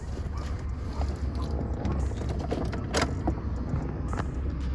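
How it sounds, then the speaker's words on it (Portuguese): A Mitsubishi Pajero Dakar idles with a low, steady engine rumble, close and continuous, with a sharp click or clatter near the middle of the clip. "Deixa eu ligar o carro aqui para vocês verem"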